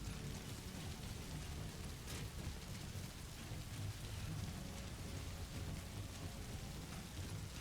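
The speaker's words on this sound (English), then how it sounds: "This rain is kind of crazy." Heavy rain pours steadily in the video game Death Stranding, a dense continuous hiss with a low rumble beneath, with no talk over it.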